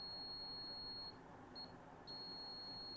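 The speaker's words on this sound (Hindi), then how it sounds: "इस पे मैं आपस में टच करूँगा तो ये बीप की आवाज़ करेगा" A multimeter in continuity mode beeps steadily as its probes touch while checking a DTH dish cable. The tone drops out briefly around the middle and then comes back. It sounds quiet and close, and nobody speaks.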